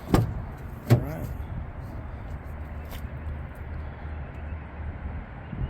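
Two quick thuds from the passenger rear door of a 2017 Ford Explorer Police Utility, an all-wheel-drive SUV, close together at the start, followed by a steady low idle rumble.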